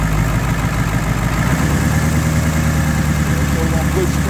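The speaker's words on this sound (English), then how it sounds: "go ahead and start it when you're ready. Just increase RPM to about 2500." A diesel engine runs close and loud with a steady idle rumble, shifting to a higher, busier tone partway through as the revs come up, with voices faintly present.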